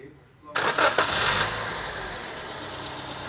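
A 2019 Wuling Confero 1.5L engine cranks and catches at once, then settles into a steady idle that runs to the end, close by and fairly loud.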